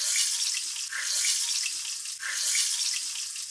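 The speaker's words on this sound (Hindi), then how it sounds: "इसी तरह हम ये दूसरी वाली भी फ्राई कर लेंगे" Fish pieces frying in hot oil for a crispy fish fry, a steady bright sizzle and crackle running throughout with brief dips, close by and with no talking.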